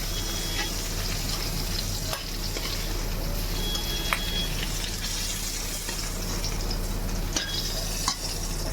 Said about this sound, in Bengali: এবার জিরা তেজপাতা ফোড়ন দিয়ে দিলাম